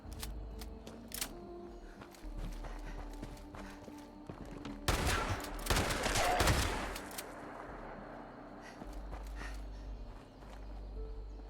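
Weapon fire in Fallout 76 crackles in a dense burst around the middle, with scattered sharper shots before and after, set against faint footsteps and quiet game ambience.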